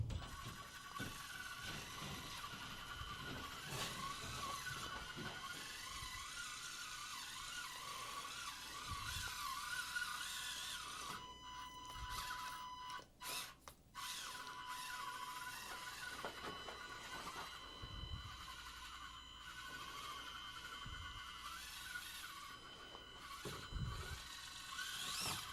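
An Axial SCX30 RC crawler drives continuously, its small motor and gears whining and ratcheting steadily and fairly close throughout, with a few brief pauses and bumps as it crawls.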